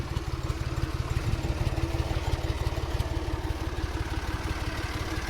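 A tractor engine running steadily while stuck in the field, a rough, low, rhythmic chugging drone with fast regular pulses and a clattering edge, continuous and fairly close, with no talk.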